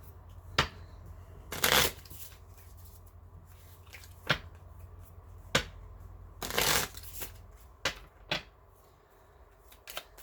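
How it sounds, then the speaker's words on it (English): Oracle cards being handled and shuffled, a series of sharp riffling bursts and taps spaced a few seconds apart, close and clear with no talking over a low background hum. "I'm going to pick some of the Island Time Wellness cards to wrap this up."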